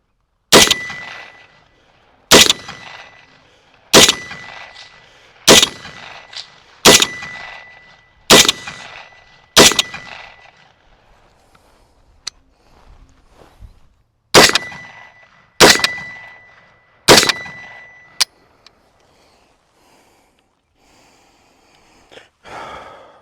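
Sharp rifle shots from a Mountain Man Defense Roughneck-15 rifle ring off a steel target. About ten loud reports come in irregular bursts, each followed by a bright metallic clang, with quiet gaps between them and no talking.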